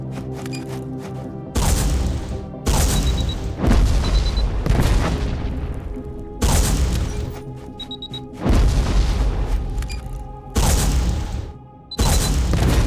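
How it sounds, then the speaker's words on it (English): Detonating missiles explode in the AI Olympius video game as a series of about seven heavy, loud booms, each a broad, roaring blast, spaced irregularly over several seconds. "shoot targets down with detonating missiles"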